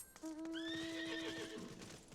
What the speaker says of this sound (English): Oh, winged horse. Little Pegasus.